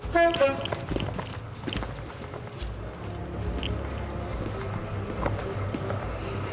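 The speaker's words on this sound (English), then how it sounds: "Train's literally just shot past." A train rushes past close by at Paddington Station, a heavy continuous roar and rattle, with some voices faintly underneath.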